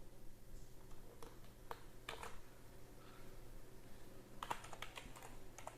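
Scattered keystrokes on a computer keyboard while a print command is entered in Python on Windows 11, a few quick taps in short bursts over a faint steady hum, with no talk.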